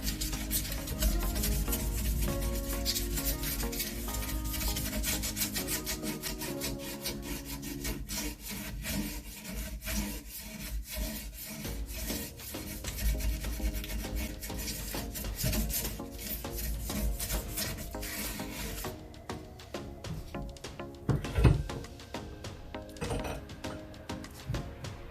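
Tin foil is rubbed over a rusty chrome surface, giving continuous close scratchy scrubbing in quick back-and-forth strokes that runs for about twenty-five seconds with brief pauses.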